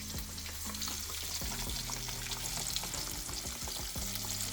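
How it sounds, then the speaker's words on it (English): Steady crackling sizzle of flour-dredged chicken frying in hot oil, continuous and close, with a few soft clinks and shifts partway through. "And start to fry. All right, so we got it good. It's frying."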